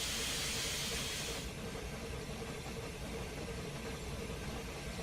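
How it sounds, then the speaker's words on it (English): A steady, faint hiss from a steam locomotive's injector in a train simulator game runs throughout, brighter at first, over a low mechanical rumble of the locomotive at rest. "the injector was on too"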